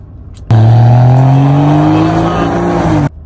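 A car engine is revved once hard, jumping in abruptly to a loud, close, rising roar that holds for about two and a half seconds before cutting off sharply.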